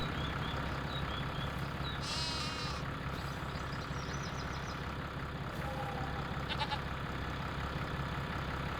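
Goats bleat a few times on a farm at dusk, short nasal calls standing out over a steady low engine rumble in the background.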